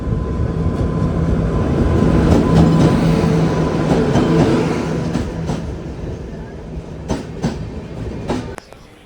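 The 19577 Goa to Rajkot (Jamnagar Express) passenger train runs on the tracks. Loud rumble and rhythmic clickety-clack are heard from inside a crowded general coach and ease off toward the end, with faint voices in the background.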